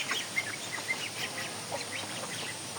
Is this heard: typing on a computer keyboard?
no